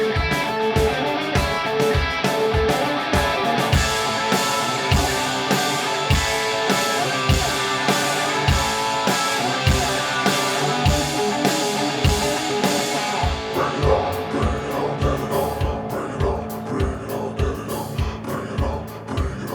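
A full song with steady drum beats and layered instruments, its vocals drenched in reverb and a repeating delay effect, playing loudly and continuously throughout.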